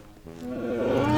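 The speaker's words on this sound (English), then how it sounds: "The elephant makes a trumpeting sound like" An elephant trumpets in a brief, rising, brassy call that grows louder toward the end, heard alone as an animal sound effect in a children's read-aloud book.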